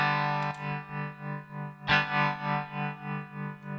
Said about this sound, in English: I know the programmed effect is eighth note tremolo